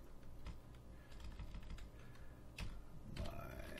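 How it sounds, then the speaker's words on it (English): Typing on a computer keyboard, a quiet close run of irregular key clicks with short pauses and a slightly louder burst near the end. "just type in a name of any catalog that I want"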